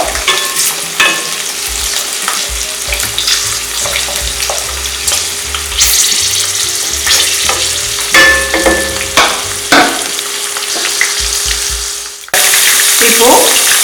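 Ginger, garlic and green chilies sizzle and fry in a pan for a chicken gravy, with steady crackling, occasional stirring scrapes and a brief louder burst of sizzle at the end.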